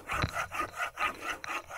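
A Tajima G Saw 210 folding saw cuts through fresh rambutan wood, giving about six rhythmic rasping strokes that are close and clear.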